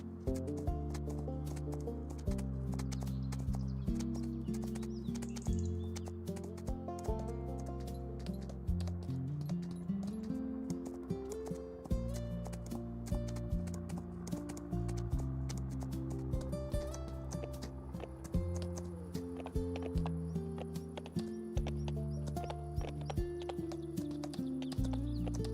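Horses in the Farming Simulator 25 video game, in a Carpathian countryside setting, with rhythmic clip-clop hoof steps and occasional whinnies over game music and ambient tones, continuing steadily for about twenty-five seconds.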